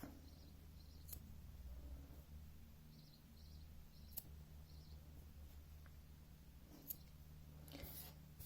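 A few sharp, faint snips of scissors cutting yarn ends, spaced seconds apart against a quiet background hum.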